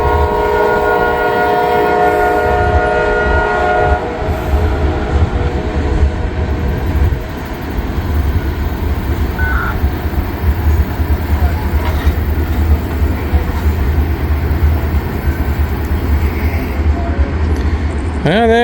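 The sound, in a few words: Amtrak train at Ashland station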